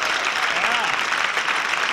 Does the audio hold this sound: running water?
no